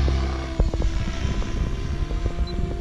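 An RC helicopter, a SAB Goblin, and a Yuneec Q500 drone fly outdoors, giving a steady whirring rotor drone with a low throbbing hum and shifting engine pitch, continuous and moderately loud with no talk.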